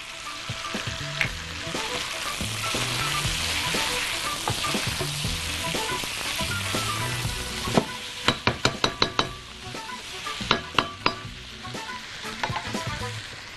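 Onion frying in a pan with a little spice, a steady loud sizzle throughout, joined near the end by several sharp clinks of a utensil against the pan.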